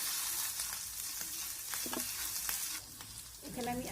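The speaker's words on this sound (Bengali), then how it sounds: "এখন আদা কাঁচা লঙ্কাটাকে একটু ভেজে নেব" Ginger and green chilies fry in a pan with a steady bright sizzle, broken by a few soft stirring scrapes and taps, close and continuous with no talking.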